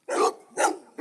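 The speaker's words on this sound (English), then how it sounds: "Look at this dog." A large dog barks three times in a steady rhythm, each bark loud, close and full-bodied, with short silent gaps between them and no talking.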